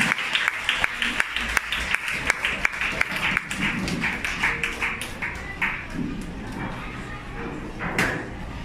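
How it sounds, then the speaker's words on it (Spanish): A church congregation breaks into applause: sharp, rhythmic claps are loudest early on, then thin into scattered clapping beneath murmuring voices. "denle un aplauso al Señor por ese milagro tan extraordinario"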